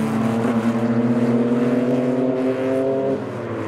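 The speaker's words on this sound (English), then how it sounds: "So we have a E46 doing some donuts." A BMW E46 3 Series does donuts nearby, its engine droning loud and steady at high revs with slight pitch waver, no talk over it.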